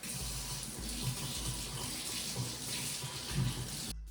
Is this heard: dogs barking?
no